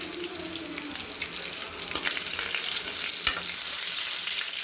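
Chilli fish frying in a pan while being stirred, a steady close sizzle with scraping strokes and a sharp clink near the end, no voices.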